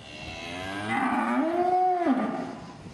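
A calf moos once in a long, rising and falling bellow of about a second, loud and close, with no talking around it.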